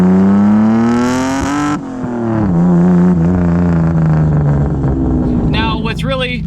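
Single-turbo Mitsubishi 3000GT VR4, factory twin-turbo converted, revs up loudly close by, its engine note rising, dropping off, then climbing again with a strained whine near the end, with talk over it.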